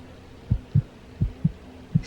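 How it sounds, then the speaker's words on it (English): A heartbeat sound effect thumps through a horror story about sleep paralysis, five low, muffled beats spaced at an uneven pulse over a faint background hum. "Stop it with the heart beating."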